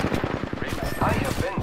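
Rapid automatic gunfire from Apex Legends rattles in quick, tightly spaced bursts, loud and close throughout the short stretch.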